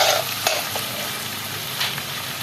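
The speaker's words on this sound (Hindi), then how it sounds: "प्याज को मैंने हल्का सा फ्राई कर लिया है और अब 1 टेबल स्पून भर के मैंने लहसुन का डाला है" Onions and garlic frying in a pan in a home kitchen, a steady close sizzle with a few soft stirring scrapes throughout.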